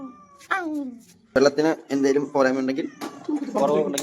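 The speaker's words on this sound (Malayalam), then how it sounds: "ഞങ്ങളുടെ പൂച്ചക്കുഞ്ഞാണ് ഗൈസ് ഇത്" A pet kitten gives several rising and falling meows close by, mixed in with a person talking in an indoor hostel setting.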